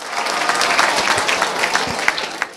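Students at a school quiz competition at Nasima Kadir Molla High School and Homes clap loudly after a correct answer. Dense, close applause from a group lasts under three seconds, with no talking over it.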